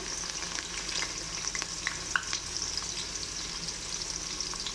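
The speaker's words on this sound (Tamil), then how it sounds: "ஒரு பெரிய வெங்காயம் போட்டுக்கிறேன். நீட்டு வாக்கில் கட் பண்ணியிருக்கேன்." A large onion, cut into long slices, frying with spices in a pan for mutton biryani, giving a continuous moderate sizzle with light stirring clicks throughout.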